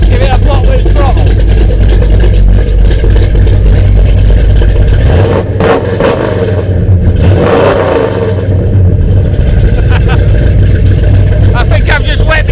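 Car engine revving loud and close under a throttle blip, with a steady roaring drone that dips briefly midway and then swells again, with voices talking over it.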